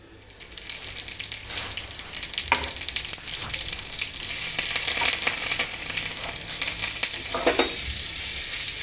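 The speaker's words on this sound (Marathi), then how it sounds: "तुपातमध्ये थोडीशी हिरवी मिरची टाकायची, जिरी मोहरी टाकायची, कढीपत्ता टाकायचा आणि तडतडीत फोडणी द्यायची" Green chili, cumin, mustard seeds and curry leaves crackle in hot ghee, a dense steady sizzle with scattered pops and brief stirring scrapes, close up and continuous, with no voices.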